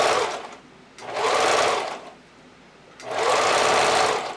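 Sewing machine running a regular zigzag stitch to attach fold-over elastic on a bra, two close bursts of stitching separated by a brief pause.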